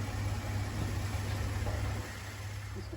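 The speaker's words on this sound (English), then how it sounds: "At this point, the motor's not spinning fast enough." A 1964 Cadillac Coupe Deville engine, long left sitting, cranks slowly after a new coil, points and carburetor, giving a steady close rumbling drone that drops slightly in level partway through.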